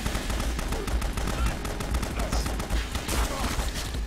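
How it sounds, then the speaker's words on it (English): Rapid gunfire in the video game BloodRayne is aimed at the player's character as a dense, continuous rattle of shots. It is loud and unbroken throughout. "Who's shooting me now?"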